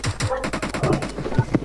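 In PUBG Mobile, a rapid burst of automatic gunfire rattles off in quick repeated shots, loud and close, while someone talks excitedly over the firing.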